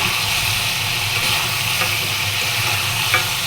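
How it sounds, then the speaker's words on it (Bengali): Chicken sautéing with whole spices, chilli powder, salt and green chillies in a pan, a loud steady close sizzle with faint stirring scrapes throughout. "আমি এভাবে চিকেনটা কষিয়ে নিচ্ছি"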